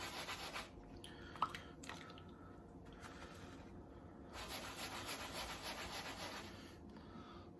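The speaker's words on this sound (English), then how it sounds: "with this brush, you don't really have to scrub too hard" A bristle brush scrubbing dirt off a leather baseball glove with cleaner, soft close rubbing strokes in bursts with brief pauses and a small knock.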